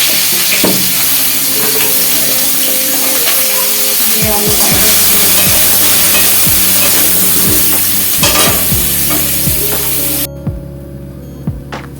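Steady, loud sizzling of potatoes frying in hot oil fills the clip, with occasional stirring clatter, fading down near the end.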